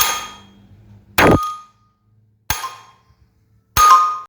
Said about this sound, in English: it goes to back side and produces the ding dong sound